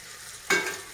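Tomatoes, brinjal, paneer and onion stalks hit a hot pan and burst into a loud sizzle about halfway through, the frying hiss holding on after a quiet start with light stirring.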